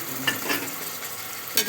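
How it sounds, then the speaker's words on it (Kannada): Ginger garlic paste being stirred in a frying pan, a steady soft sizzle broken by a few brief scraping strokes of a spoon against the pan, close and clear, with no talking. "ಇದನ್ನು ಚೆನ್ನಾಗಿ ಮಿಕ್ಸ್ ಮಾಡಿ"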